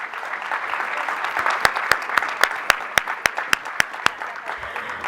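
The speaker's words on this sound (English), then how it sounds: "let's give them a round of applause" An audience at a school board meeting applauds steadily to welcome students from a family school onto the stage, while a sharp, rhythmic run of loud individual claps cuts through the middle and end.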